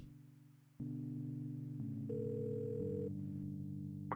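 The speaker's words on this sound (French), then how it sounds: "Prends le téléphone et appelle vers McConnell." Telephone dialing tones in the point-and-click detective game Kathy Rain, a series of steady stepped electronic tones changing pitch every second or so, clear and close with no voices.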